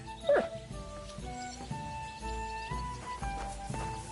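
A dog whimpers and barks in Kingdom Come: Deliverance II, a string of short yips and soft whines close by, with game sounds around them.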